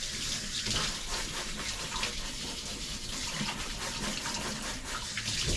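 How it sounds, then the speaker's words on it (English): Tap water runs steadily over a GoPro camera as it is rinsed, a soft, even splashing and gushing that goes on without a break and without voices. "All right, I'm gonna rinse it real quick."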